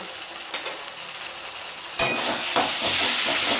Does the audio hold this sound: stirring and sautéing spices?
yes